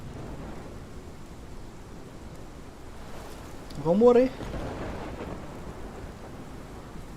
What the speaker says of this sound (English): Olha o tornado na cidade.